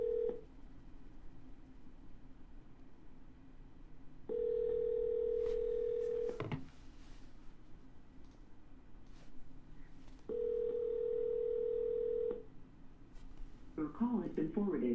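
An outgoing phone call on a real estate seller line with steady ringback tones in long, evenly spaced pulses, separated by quieter gaps, and brief clicks and a garbled voice toward the end.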